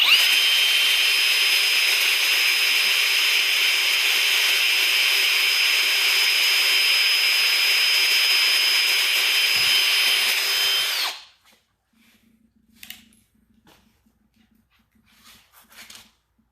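A power drill whirs at high speed for about eleven seconds, then stops, followed by faint clicks and handling noises.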